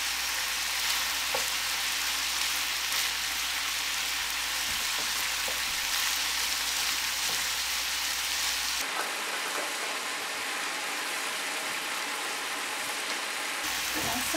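One and a half pounds of ground beef browning in a pan for potato and hamburger soup, giving a steady, dense sizzle like rain, with a hum underneath that drops out partway through.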